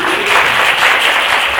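Students in a geography class applauding, a short burst of steady, dense clapping that stays even and fairly loud throughout.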